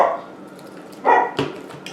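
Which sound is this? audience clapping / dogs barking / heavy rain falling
dogs barking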